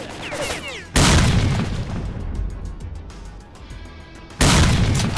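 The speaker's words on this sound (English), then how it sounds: "We're gonna play with grenades." Grenades go off in the video game S.T.A.L.K.E.R.: Call of Pripyat, two loud, close booms with a rumbling tail between them and faint crackles and pops as the blasts fade.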